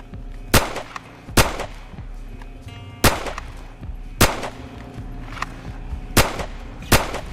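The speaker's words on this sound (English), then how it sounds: "fire 1 round, okay? Excellent. Gun up to eye level. Touch the trigger. Okay. Smooth press." Handgun fired at a shooting range: about seven sharp, loud shots crack at irregular intervals of roughly one second, each with a brief echoing tail, with no talk.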